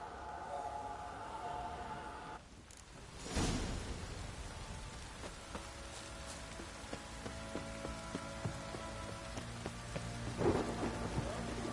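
Steady rain hisses continuously in The Witcher video game while a deep rumble of thunder rolls through, with a few sharper cracks later on.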